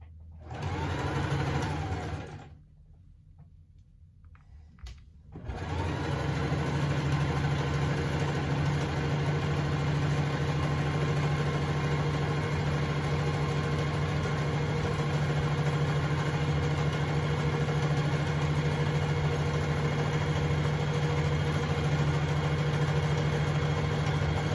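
A sewing machine runs a zigzag stitch along a skirt in a steady mechanical whir, with a short burst, a pause of near silence, then a long, even, continuous run close by.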